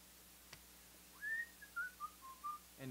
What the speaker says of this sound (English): you just kind of whistle it a little more because you can't stop it